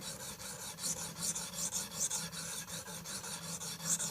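Steady rasping strokes of a KME sharpening system's stone honing a convex edge on an axe, a continuous close scraping with faint rhythmic pulses and no talk.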